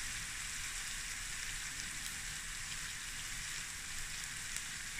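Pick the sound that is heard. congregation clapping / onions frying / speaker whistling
onions frying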